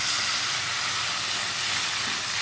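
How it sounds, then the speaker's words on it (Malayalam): Tomatoes hit a hot pan of browned onions, giving a steady, loud broadband sizzle and hiss that holds evenly throughout, with no voices. "പിന്നെ നമുക്കിനി തക്കാളി ഇട്ട് കൊടുക്കാം."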